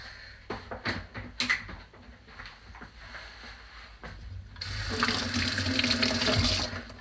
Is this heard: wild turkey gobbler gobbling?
no